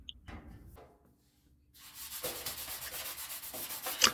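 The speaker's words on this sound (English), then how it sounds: "we're just using a little flap wheel here" A flap wheel sands the metal body of a 1962 Impala near the outer wheel housing, a rough, steady abrasive rubbing that starts after a short pause and continues close up.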